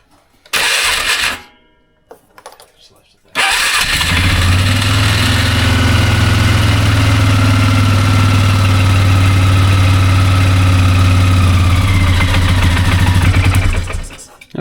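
A 2001 Polaris Sportsman 400 ATV engine cranks and catches after a brief starter burst, then settles into a loud, steady idle with a deep rumbling drone held close for about ten seconds before cutting off.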